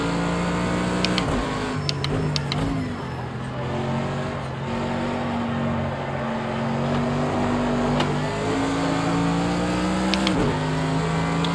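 A Formula 1 car in the racing video game Project Cars 2 screams through the gears, its engine pitch climbing and dropping sharply on each shift and braking point, with a voice talking over it.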